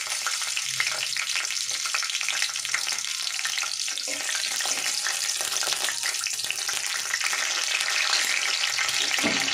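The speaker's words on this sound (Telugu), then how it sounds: "ఆయిల్ హీట్ అయ్యాక ఇలా 7 నుంచి 8 వరకు ఇలా పచ్చిమిరపకాయలు తీసుకొని ఫ్రై చేసుకున్నానండి" Seven or eight green chillies fry in hot oil for a Telugu cucumber chutney, making a loud, dense, continuous crackling sizzle that holds steady throughout, close up with no voices.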